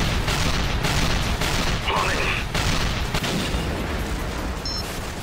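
A cannon fires rapidly in the Assault Gunner video game, a dense, continuous roar of overlapping blasts and booms with someone talking over it.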